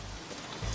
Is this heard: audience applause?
no